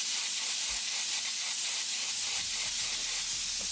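An airbrush sprays paint in a steady, continuous hiss, held close and unbroken with no voices over it.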